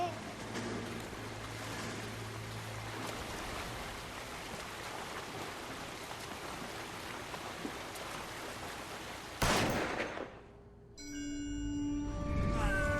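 A single sharp gunshot in the L.A. Noire video game cracks out loud near the end, cutting through a steady rain-like wash of ambient noise, followed by brief quiet and then tonal game sounds.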